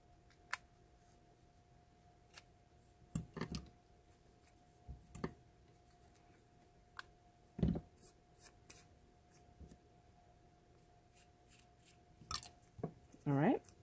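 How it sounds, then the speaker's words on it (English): Scissors trimming binder fabric for a dollhouse notebook binder bag, with scattered short snips and rustles at a quiet close range, separated by pauses. "so I'm going to have to trim that a little bit"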